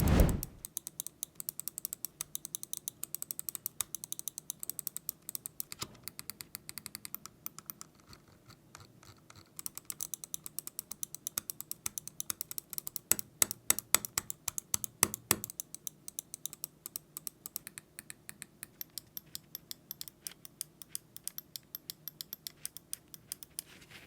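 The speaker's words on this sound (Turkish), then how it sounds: "Şöyle tuş sesine yakından bakalım." Button clicks of an ASUS TUF Gaming M4 Air lightweight gaming mouse, recorded up close: rapid crisp clicking in uneven bursts, with denser flurries near the middle and a short lull partway through.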